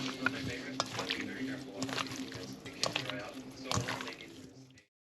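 Beef pieces are mixed with spices and sofrito in a pot, giving wet squishing, stirring and light scraping sounds with occasional clinks of a utensil, moderately close, before everything cuts off abruptly.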